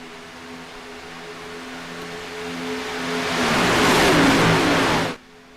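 Race cars on a superspeedway in a sim racing game, their engines droning steadily and then swelling into a loud rushing pass before cutting off abruptly near the end.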